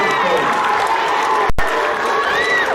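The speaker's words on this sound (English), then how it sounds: "Everyone, let's have a round of applause for Mr. Oliveria." A crowd applauds with steady clapping and some cheering, a dense wash of sound that briefly cuts out halfway through.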